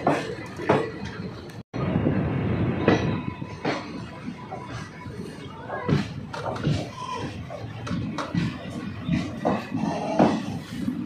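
Bandra Terminus–Delhi Garib Rath Express train running, a steady loud rumble of wheels and carriage noise with rhythmic clatter throughout, briefly cut out once near the start.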